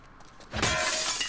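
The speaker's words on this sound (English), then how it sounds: "Smash the coffee pots?" A coffee pot smashes with a sudden loud glass shatter in The Last of Us Part II, breaking with a bright burst and a short ringing tail.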